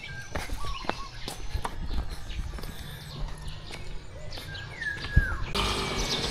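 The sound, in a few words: many birds chirping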